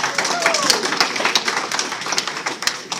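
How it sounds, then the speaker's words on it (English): A comic con awards crowd in Detroit applauds a winner with a dense, fairly loud patter of claps, mixed with voices in the room. "Big round of applause."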